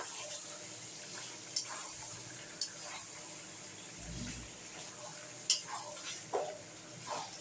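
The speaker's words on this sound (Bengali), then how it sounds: "এটাকে কষতে হবে।" Chicken being stir-fried with a fried spice masala in a pan, giving a faint, low sizzle broken by a few sharp scrapes and taps of the spatula.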